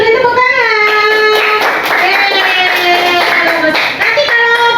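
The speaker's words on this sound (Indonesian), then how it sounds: "Oke, benar kasih beri tepuk tangan." Fourth-grade schoolchildren in an Indonesian-language class clap in rhythm while their voices chant along in unison. The claps and chanting are loud and close, running continuously with a brief dip near the end.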